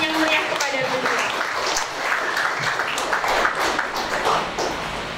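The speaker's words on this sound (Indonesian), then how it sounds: "Beri tepuk tangan yang meriah kepada beliau." An audience of school students claps for the headmaster at a school event, a warm spread of applause that swells and fades under some voices.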